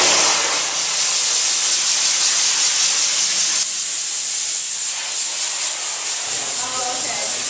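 A steady, close hiss of water spraying from a nozzle, broad and continuous, dropping slightly in level partway through before continuing.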